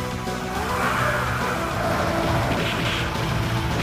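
Car engine and tires in the arcade beat-'em-up Cadillacs and Dinosaurs, a steady loud rumble with screeching, skidding tones running throughout, no voices.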